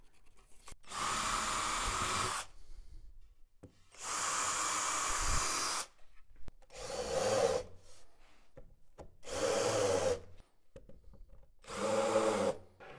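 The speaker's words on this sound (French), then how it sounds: "Indiquez une nouvelle fois les points de perçage et forez." Repeated bursts of drilling into a wooden cabinet panel, five separate runs of a few seconds each, close and loud with short quiet gaps between them.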